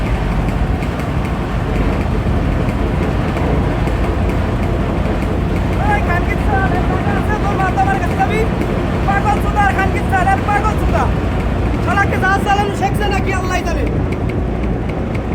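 An engine runs loud and close with a continuous heavy rumble throughout, while voices and shouts rise over it in the second half.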